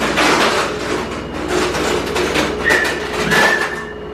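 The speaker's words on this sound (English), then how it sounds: "the glass was bashing against the metal sink, and that is what the noise was" A glass reed diffuser bashes against a metal sink inside a spinning washing machine, giving a loud, continuous rattling and clattering with sharp metallic rings and harsh scraping bursts.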